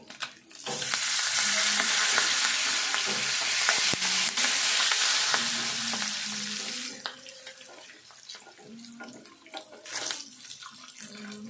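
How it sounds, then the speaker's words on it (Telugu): Curry leaves dropped into hot oil in a pan with turmeric for an egg dish, giving a loud rushing sizzle that fades over several seconds, then quieter frying with brief stirring scrapes; a voice hums faintly in the background. "కొంచెం కరివేపాకు వేసుకుందాము కొంచెము"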